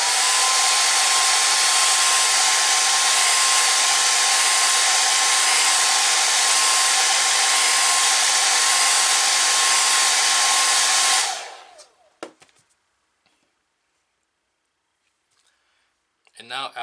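A hair dryer runs loud and steady for about eleven seconds, drying watercolor paint on paper, then cuts off and leaves near silence with a few faint handling sounds.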